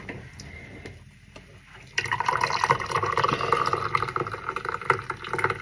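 Tea poured into a glass for Irani chai, a steady liquid stream that begins partway through and keeps running, near and moderately loud.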